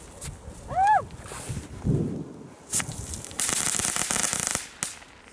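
Fireworks go off outdoors: a rising whistle, then sharp bangs and crackling bursts, with a long fizzing spray near the end.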